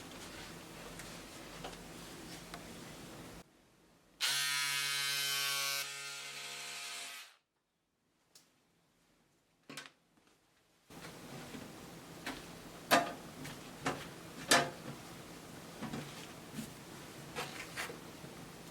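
Scissors cutting out fabric for a kimono dress at a sewing table, heard as a short burst of snipping followed by intermittent sharp ticks and clicks against a faint steady background.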